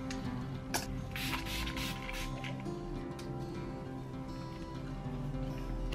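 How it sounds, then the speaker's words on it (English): Hairspray aerosol sprayed onto hair, several quick hissing bursts in the first few seconds, close and steady, fading into a quieter room background. "I'm just gonna give it a good spray with hairspray"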